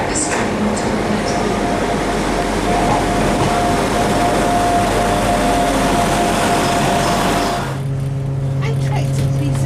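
A passenger train pulls in at a platform at Cardiff station, its loud broadband rumble and rolling noise filling the first eight seconds before settling into a steadier, quieter engine hum close by.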